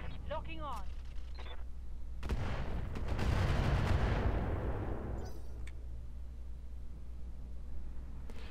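Mech weapons fire in the BattleTech mod Roguetech: a few sharp reports, then a loud roaring barrage of rapid blasts that swells and fades over several seconds, with a brief metallic clicking at the start.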